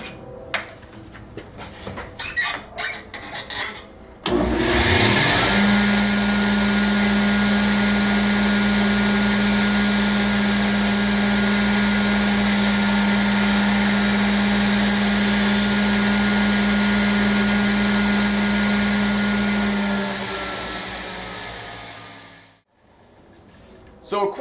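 A belt grinder runs a 120-grit ceramic belt for knife making, a loud steady whine with a sustained tone that holds for about fifteen seconds before spinning down, preceded by brief clatter.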